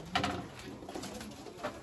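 Konya kulu breeding pigeons from Sivas coo softly in a loft, giving a few low, gentle, rolling calls at moderate distance with no talk over them.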